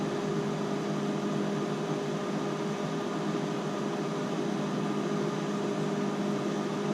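A Panasonic NN-SN755S microwave without a transformer runs with a steady, even hum and soft fan-like whoosh, constant and moderately loud throughout with no voices.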